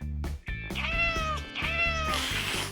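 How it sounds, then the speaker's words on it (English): A kitten meows twice, high and plaintive, close up over a rhythmic background beat. "Oh, what a cute kitten."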